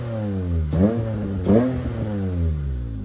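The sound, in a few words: Honda J35 V6 engine revving with VTEC intake sound, Miata swap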